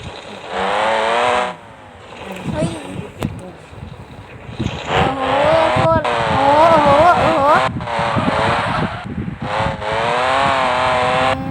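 A Nissan GT-R R35 drives in a video game, its engine revving loud and continuous with rising and falling pitch as it accelerates and shifts.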